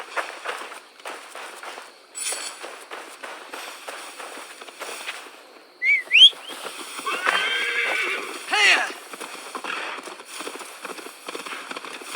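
Rapid hoof clip-clops from a horse in a video game patter throughout, broken by sharp whinnies and snorts from the horse nearby, with a few louder thumps in between.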